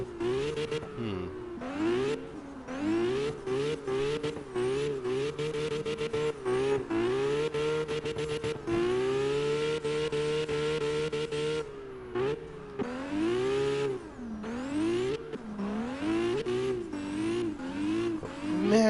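A car engine in the CarX Drift Racing video game, an RB25-type motor, revs hard and steadily through repeated gear changes and throttle lifts, loud and close throughout with no talking.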